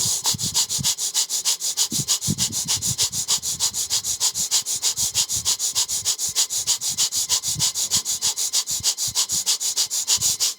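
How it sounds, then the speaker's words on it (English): Rapid, evenly pulsed breath of fire during a kundalini yoga forward fold, sharp nasal exhalations repeating several times a second without a break, close and steady for the whole stretch, with no talking. "continue the breath of fire"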